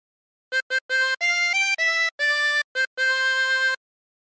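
Harmonica plays a short melodic phrase of the LWIAY theme, with a series of clean, separate blown and drawn notes, some short and some held, ending in a longer sustained note before silence.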